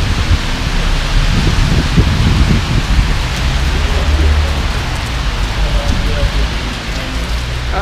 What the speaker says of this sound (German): was ist das für ein Regen, Mann. Da hilft nicht mal ein Regenschirm.